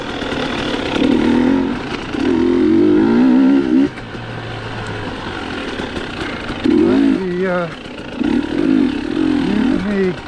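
A KTM 300 TPI two-stroke dual sport motorcycle engine revs and drops back in repeated surges while riding, loud and close, with voices talking over parts of it.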